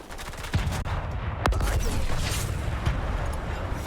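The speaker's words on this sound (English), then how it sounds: "Oh, somebody's shooting at me." Gunfire in Fortnite, with a rapid fusillade of shots cracking in bursts, several sharp louder reports standing out above a busy background of battle noise.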